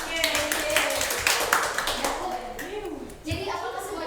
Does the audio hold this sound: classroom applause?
yes